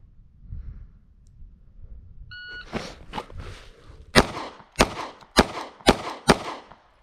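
Glock 43x pistol fired during a shooting drill: after a short electronic timer beep, a few quieter early shots give way to five sharp, loud shots in a steady rhythm, with no talk.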